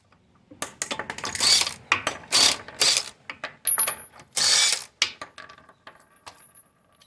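Wheel removal on a Chrysler 300, with loud rapid bursts of an impact wrench or ratchet spinning off lug nuts, several separate rattling runs close by, split by brief pauses and small metallic clinks.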